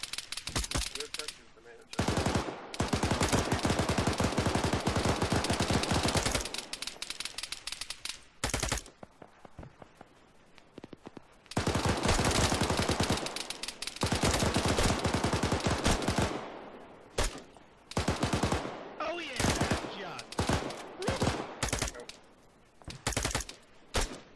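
Dense bursts of automatic gunfire from an Arma 3 battle sound in long sustained volleys broken by short pauses, loud and close, with some talk mixed in.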